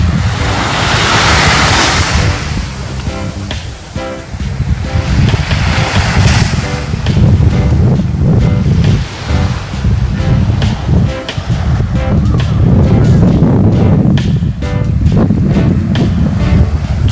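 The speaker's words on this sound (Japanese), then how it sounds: "海にはスジのようなうねりが入ってきてショアブレイク。" Shore break waves on the Sea of Japan under a light offshore wind, a loud continuous roar of surf with rushing breaking water and wind buffeting the microphone, no voices.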